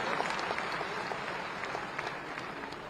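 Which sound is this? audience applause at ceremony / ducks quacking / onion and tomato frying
audience applause at ceremony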